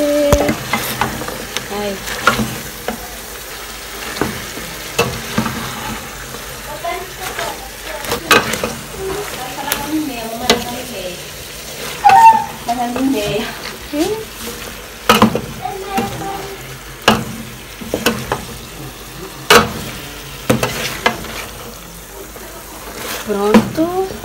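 Food fries in a pan while being stirred, with steady sizzling and frequent sharp clacks and scrapes of the utensil against the pan, close and fairly loud. A voice speaks briefly.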